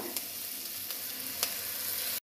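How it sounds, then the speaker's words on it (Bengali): Chopped green chillies hiss in hot oil with tomato, a steady close sizzle carrying a few faint spoon clicks before it cuts off abruptly. "আর কেটে রাখা কাঁচা লঙ্কা কুচি এবার দিয়ে দেব।"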